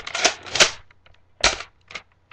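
A Nerf Alpha Trooper toy blaster fires in a quick series of sharp, close clicking pops, about four or five snaps in a little over two seconds, each with a short springy burst.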